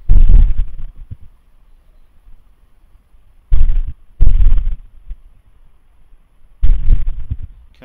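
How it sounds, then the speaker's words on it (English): Distant volcanic explosions at Reventador volcano in Ecuador come as several deep, booming rumbles, each a loud broadband burst fading into a low tail, separated by quiet gaps. "you will hear the sound of the explosion"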